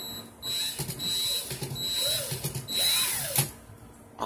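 A power drill spinning wire to twist a Clapton coil whirs in several short bursts with brief pauses between them, nearby and fairly loud, with faint clicks and handling sounds.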